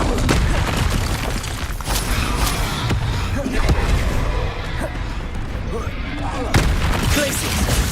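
Confringo fire-blast spells in the Hogwarts Legacy game go off as repeated booming impacts and crashes amid dense combat noise, with a voice shouting over them throughout.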